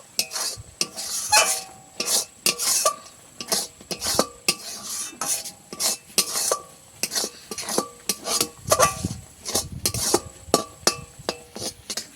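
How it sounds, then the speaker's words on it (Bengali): A spoon stirs semolina and cashew nuts into thickened milk in a pan, making a quick, uneven run of scraping clinks and knocks against the metal, close and fairly quiet, with no talking. "সুজি আর বাদামটাকে দিয়ে দেব এবারে নেড়ে চেড়ে একটু ভালো করে মিশিয়ে নেবো"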